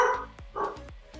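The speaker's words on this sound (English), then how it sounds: "That's my dog, guys." A dog indoors gives two short, fairly faint barks about half a second apart, with small thumps between them.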